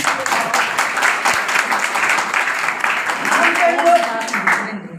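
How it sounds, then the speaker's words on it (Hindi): Steady, dense applause from a crowd, continuous and fairly loud for several seconds before trailing off. "जोरदार ताली"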